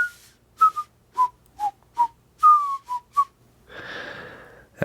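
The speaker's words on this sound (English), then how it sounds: "It's going to be that theme song of a whistling person." A melody is whistled close by, eight crisp notes in a bouncy rhythm, followed by a short burst of hissy noise at the end.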